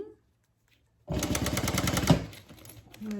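A sewing machine stitches a Denver double zip bag, starting abruptly after a near-silent pause and running as a fast, loud, rhythmic mechanical chatter for about a second before slowing and stopping.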